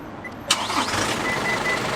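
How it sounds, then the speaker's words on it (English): A 2021 Isuzu D-Max X-Terrain pickup starts by remote: a sharp crank catches into a steady, close engine idle that hums on without any talking. "normally the procedure is, you lock the car and then you start the engine"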